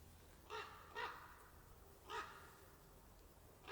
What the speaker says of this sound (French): Le corbeau est là. Vous l'entendez?